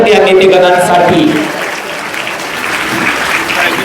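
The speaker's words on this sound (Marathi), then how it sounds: "त्याबद्दल आपण सर्वांनी जोरदार टाळ्या वाजवायच्या त्या नेतेगणांसाठी" Loud, dense applause from a crowd at a political gathering honouring the leaders, steady clapping that eases slightly midway and carries on throughout, with voices mixed in.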